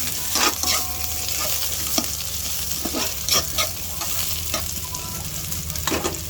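Garlic, onion and ginger sauté in a pan, with a steady sizzle of frying under repeated scraping and stirring strokes, close and fairly loud, with no talking.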